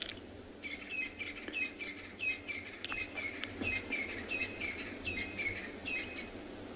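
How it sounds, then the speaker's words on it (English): Squirrels give repeated chirping alarm calls at a harrier hawk in the South African bush, a rhythmic series of sharp calls at moderate distance over steady insect and outdoor ambience. "We also hear the squirrels that are getting upset very quickly with them."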